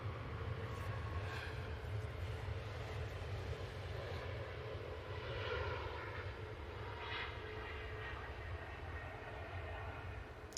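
A jet airliner on a positioning flight lands at an airport, its engine roar a steady, distant rumble with broad broadband noise throughout, no voices present.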